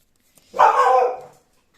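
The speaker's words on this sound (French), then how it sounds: "c'est encore le chien qui a aboyé" A single sharp dog bark indoors, loud and close, lasting under a second, with silence before and after.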